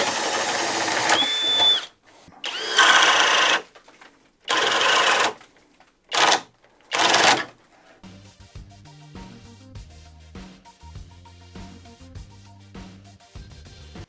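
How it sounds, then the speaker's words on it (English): A cordless drill bores through wood in several short trigger pulls, each a loud whining burst separated by silence, before music takes over for the rest. "it was able to go through it with multiple trigger pulls, but obviously even a drill as powerful as this one feels does have its limitations"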